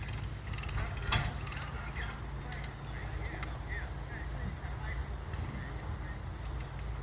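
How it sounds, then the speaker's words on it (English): Ratcheting crank tightening a strap that draws manufactured home sections together during setting, with faint repeated clicks and mechanical creaks over a steady low rumble of outdoor machinery. "See, he's cranking it up, and as he's cranking it, it tightens and it moves the house in closer."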